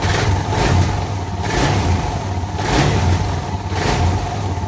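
Suzuki DR650 single-cylinder motorcycle fitted with a K&N air filter, its engine idling and blipped a few times in rising surges, steady and fairly close, with no talking.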